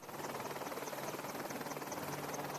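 A helicopter's rotor thrums in a fast, even rhythmic pulse over a steady engine whine, continuous and fairly close, with no voices.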